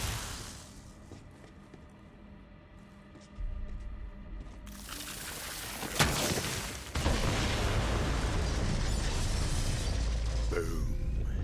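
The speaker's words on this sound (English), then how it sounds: "The explosion echoed through the forest" Bombs set by the player detonate in the video game Borderlands 3 in a forest, a loud booming blast that builds at about three and a half seconds, peaks near six and seven seconds, then rumbles on with dense, sustained debris noise.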